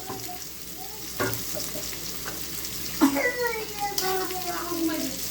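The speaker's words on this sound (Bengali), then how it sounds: "এর ভিতরে দিয়ে দিলাম এই যে চিংড়ি মাছ ভালো করে কষাই নেব" Prawns frying in a pan with green chili and salt give a moderate sizzle with stirring scrapes and a clatter near the middle, while someone talks over it.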